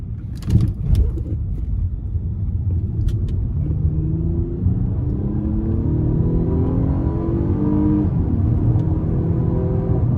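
A 2014 Acura RLX Advanced with a 3.5 V6 accelerates hard in sport mode, its engine note climbing steadily through the revs in a smooth rising drone, heard from inside the cabin with a few clicks at the start.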